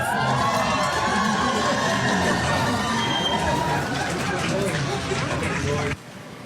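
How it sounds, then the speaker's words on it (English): Crowd cheering and excited shouting fill a courthouse hallway as Luigi Mangione's lawyer, Karen Friedman Agnifilo, walks in; the loud, dense roar with voices mixed in runs steadily, then drops off sharply near the end. "There was a ton of cheering for her."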